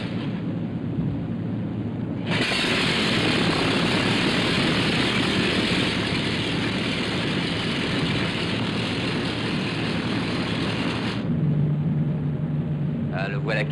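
A propeller aircraft engine starts up and settles into a loud, steady roar that holds for about nine seconds before cutting back to a quieter idle, with a faint low rumble around it.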